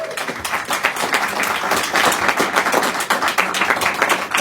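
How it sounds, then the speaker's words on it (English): Audience applause at a Senate Democrats event marking Medicare and Medicaid's 60th anniversary, dense steady clapping close by that swells right after the start and holds throughout. "Let's have a round of applause for them"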